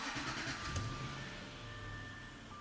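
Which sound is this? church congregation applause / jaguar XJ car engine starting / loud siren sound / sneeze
jaguar XJ car engine starting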